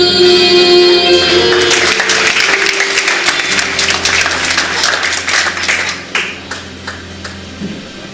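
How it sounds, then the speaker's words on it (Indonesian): A church congregation at a Pentecost Sunday service applauds a group of young people: a loud, dense wash of clapping over sustained music tones, thinning into scattered claps toward the end. "Kita berikan sekali lagi tepuk tangan untuk mereka."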